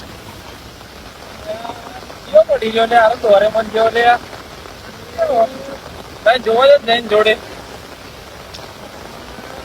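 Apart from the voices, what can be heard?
rain falling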